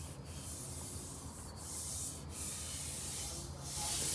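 Table surface being hand-sanded with fine 320 grit sandpaper, a steady close rubbing hiss in long back-and-forth strokes with brief pauses, no talking.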